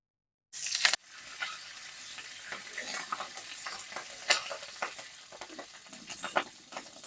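Curry leaves dropped into hot mustard oil for a lentil tarka burst into a loud sizzle, then settle into a steady close crackle and hiss with scattered sharp pops and stirring scrapes, no voices.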